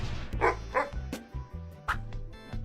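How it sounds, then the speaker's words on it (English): A dog on a farm gives a few short, sharp barks and yips, spaced irregularly over soft background music. "Dog."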